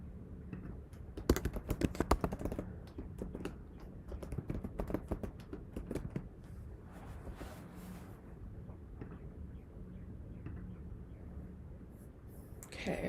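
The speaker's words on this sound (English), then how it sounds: "let's type" Fingers typing on a computer keyboard, a close, quick rattle of key taps that is densest early on and then thins to scattered soft presses over a low background hum.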